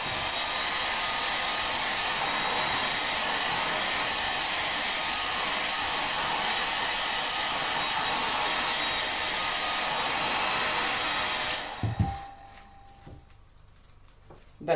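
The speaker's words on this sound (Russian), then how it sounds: "Проверенным моим способом начинаем сушить феном." A hair dryer blows steadily at close range over baking paper, a loud continuous whooshing roar that cuts off near the end, leaving faint rustling and handling sounds.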